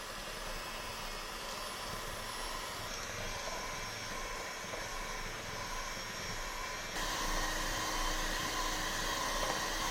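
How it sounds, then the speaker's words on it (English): An electric mixer whisks orange cake batter made with oil and sugar, a steady close motor whir that runs without pause and grows a little louder partway through; no voices are heard. "I have my machine here. I'm going to start"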